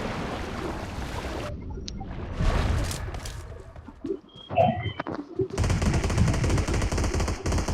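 Bursts of automatic machine-gun fire in the BGMI battle royale game ring out amid game ambience, with rapid rattling volleys and a quieter stretch in between.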